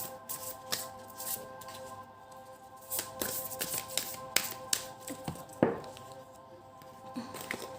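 Tarot cards are shuffled up close, a quiet run of soft riffles and sharp snapping flicks that come in uneven bursts.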